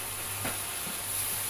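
Beef and mushrooms sizzle in a pan with a steady hiss and crackle, while a utensil scrapes briefly as the pieces are stirred and turned.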